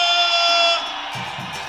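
A samba crowd at a Mangueira visit to Portela shouts back in response to a call, a brief swell of loud voices that fades after under a second, with a lower murmur and some chatter following.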